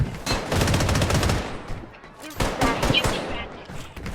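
Rapid gunfire in the shooter game Bloodstrike, dense bursts of automatic shots in two volleys separated by a brief lull, loud and close.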